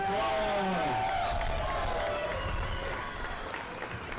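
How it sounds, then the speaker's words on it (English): A crowd at a youth enduro motorbike race awards at Iron Springs Resort in Cedar City, Utah, clapping and cheering steadily, with voices mixed in, tapering off toward the end. "Let's give these 13 to 14 boys a round of applause."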